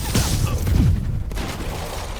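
Enemy gunfire in Marvel's Spider-Man crackles in a dense, loud fusillade of rapid booming bursts with a low rumble, then thins into a lingering hiss.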